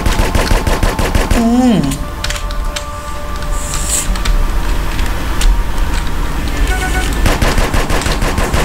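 Sustained automatic gunfire in GTA San Andreas, loud and continuous machine-gun rattle over several seconds, with a brief tonal game sound near the start and no pause in the shooting.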